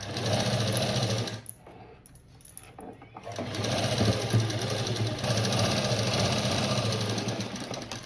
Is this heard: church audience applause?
no